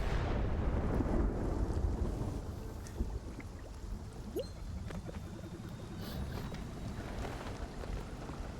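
Thunder rolls through a lightning storm in Spiritfarer, a deep rumble strongest at the start that fades into steady rain and wind, with a few faint sharp cracks.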